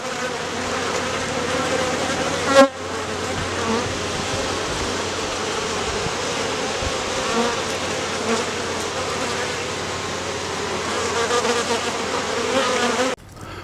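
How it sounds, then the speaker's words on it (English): Honey bees swarm around an open hive in an apiary, a dense steady buzzing drone that fills the scene continuously, close and moderately loud, with a brief knock partway through. "Oh yeah, lots of bees up top."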